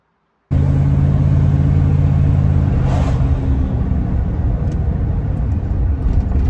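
A car with a Turbo 400 automatic gearbox on a test drive after servicing the kickdown switch, a loud steady engine rumble and road noise starting abruptly and continuing close throughout with no speech.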